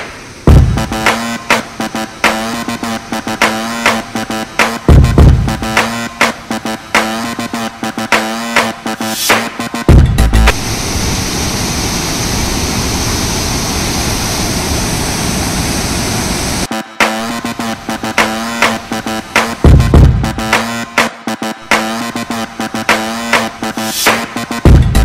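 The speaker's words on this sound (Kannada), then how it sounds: "ಎಲ್ಲೆಲ್ಲೂ ಜುಳು ಜುಳು ಶಬ್ದ" A rain-swollen waterfall and river at River Mist Resort rush with a loud, steady roar for several seconds, set between stretches of music.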